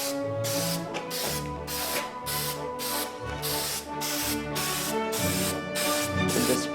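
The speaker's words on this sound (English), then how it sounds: "give it a couple sprays just to get it going." Repeated short bursts of hissing from a spray paint can applying a light coat to a model grain bin, about eight in a row with brief gaps, close and fairly loud over a steady background hum.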